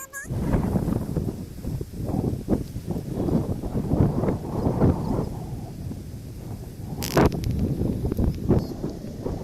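Strong outdoor wind buffets the microphone in a rural field where a fire is burning fast, a steady rushing roar with gusty swells and a brief sharp burst near the end.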